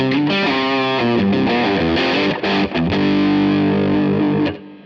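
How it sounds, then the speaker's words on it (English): Electric guitar through a Line 6 Helix Compulsive Drive distortion, an aggressive overdriven tone playing loud, sustained chords and riffs up close, ringing out alone before cutting off at the end. "How about the compulsive drive? This is going to be pretty aggressive for something like this, but it's a classic."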